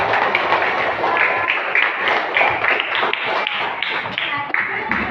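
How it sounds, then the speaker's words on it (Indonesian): Schoolchildren in a Palembang primary school classroom clap together in a dense, continuous burst of rapid hand claps, close and loud for several seconds. "Terima kasih teman-teman yang tepuk tangan dulu."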